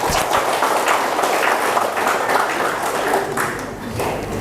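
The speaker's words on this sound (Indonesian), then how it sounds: "Tepuk tangan buat kita semua." An audience at a PKS party meeting in Ciamis, marking the party's 22nd anniversary, bursts into loud, brisk clapping, a dense crackle of many hands that carries on throughout and eases slightly near the end.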